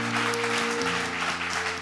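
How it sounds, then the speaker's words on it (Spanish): A church congregation applauds steadily, a dense wash of clapping that runs throughout over sustained musical tones from instruments in the sanctuary. "Dele un aplauso al Señor"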